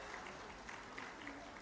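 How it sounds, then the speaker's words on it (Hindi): Applause from a crowd at an official cooperative banking ceremony in Dehradun, heard faintly as a soft, continuous patter of clapping. "जोरदार तालियों से इन क्षणों का स्वागत करें।"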